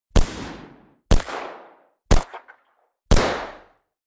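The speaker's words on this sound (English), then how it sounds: "Same bang, different tails." Four loud, sharp gunshot bangs from a video game sound design demonstration, spaced about a second apart. Each shot carries a different reverb tail, some long and washing out slowly, one short and broken up.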